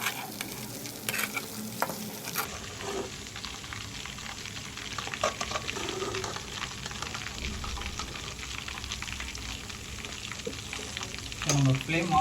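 Coconut-coated fish fries in a pan, a close, continuous sizzle with stirring and scraping sounds, brief louder clatter near the end, and occasional talk beneath.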